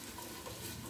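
Sizzling frying in a pan with garlic, potato and canned tomato, a steady dense crackle running evenly through the short moment with no voices.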